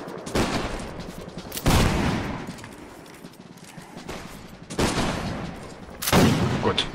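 Gunfire in a one-on-one video game match: four loud, booming shots spaced a second or more apart, each with a short rumbling tail, with no talking over them.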